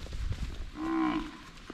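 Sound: cow mooing

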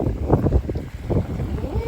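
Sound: strong wind at the seashore

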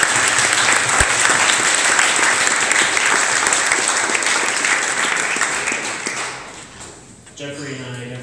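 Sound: audience applause for conference volunteers

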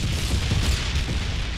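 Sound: grenade explosion in the video game Killing Floor

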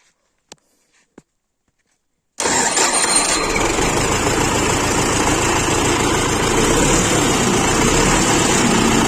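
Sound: YuMZ tractor engine starting with a new starter

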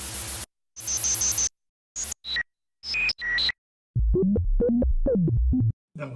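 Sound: raw analog drum loop from Behringer CAT synthesizer

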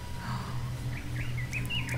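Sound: chirping birds in the video game Dead Island

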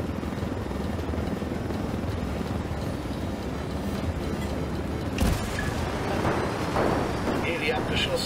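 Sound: helicopter in video game Ghost Recon Wildlands

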